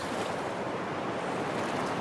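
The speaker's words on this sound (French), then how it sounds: "Attention, ça va éclabousser un peu." Rushing river water splashes steadily during a rafting descent on the Haut-Allier, a dense continuous wash of water noise with no voices.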